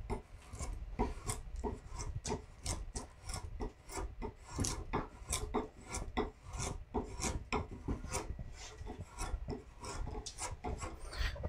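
Skew chisel slicing into wood during hand carving gives a steady run of short, crisp rasping strokes, close and evenly repeated throughout, with no talking.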